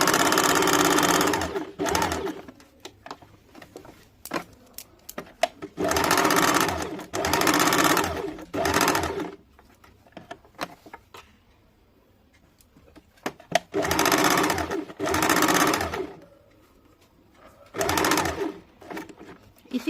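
A sewing machine runs in repeated loud bursts of a few seconds each, separated by short pauses, while darts are stitched on a deep-neck kurti with back-and-forth double stitching.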